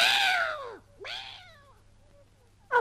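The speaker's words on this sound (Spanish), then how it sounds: "ese maullido me pone histérica" Cat meowing in a children's story recording, two long drawn-out meows in close succession followed by the start of a third, loud and near with no talking.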